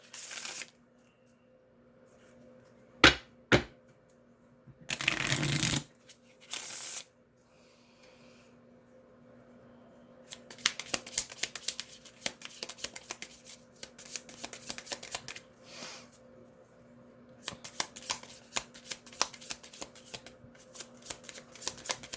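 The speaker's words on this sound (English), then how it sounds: "I'm going to just shuffle 2 more cards." Tarot cards being shuffled, a few brisk riffles early on, then a long stretch of repeated soft shuffling and flicking, close up with no talking.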